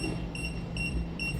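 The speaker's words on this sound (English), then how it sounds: "When it moves, it lets you know it's out of level. That's what that beep is you hear." Mereo 360 laser level sounding its out-of-level warning: a run of short, clear, high-pitched electronic beeps in a steady rhythm over a low background hum.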